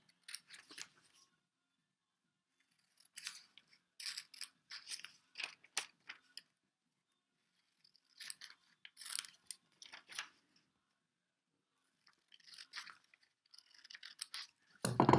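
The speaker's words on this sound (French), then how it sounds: "avec des ciseaux, vous allez couper jusqu'au petit trait que vous avez" Scissors snip through paper in short bursts of crisp, close cuts separated by pauses, quiet and without any talking.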